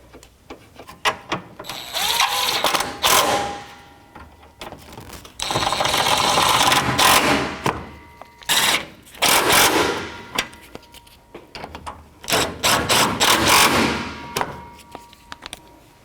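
A 12mm socket ratchet tightening bolts while a radiator is fitted into a 2006-2012 Toyota RAV4, giving bursts of rapid clicking and metallic clatter in short runs with brief pauses, close up and with no talk.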